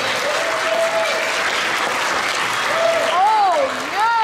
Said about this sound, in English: Let me get a round of applause for Dave.